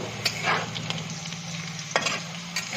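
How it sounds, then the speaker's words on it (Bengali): Potato pieces fry in a pan, a steady close sizzle with a few sharper scrapes and stirs over a low background hum. "এখন আলু ভাজছি"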